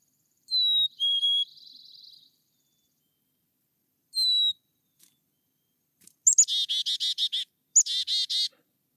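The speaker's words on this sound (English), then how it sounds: "the black-capped chickadee on the left has a simple 2-note clear song" Song of a black-capped chickadee, clear whistled two-note phrases repeated with pauses, followed by a burst of buzzy chickadee-dee-dee calls near the end, close and distinct over a quiet background.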